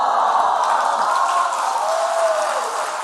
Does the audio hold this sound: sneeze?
no